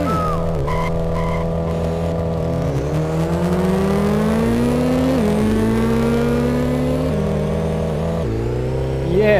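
A video game racing car engine revs loudly and continuously, its pitch climbing and dropping through gear shifts, close and dominant throughout with no other sounds breaking through.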